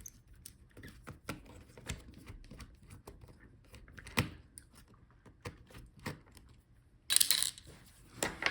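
Faint, irregular little clicks and taps from a screwdriver working the hinge screws out of a Dell Inspiron 16 7630 laptop, close by and quiet.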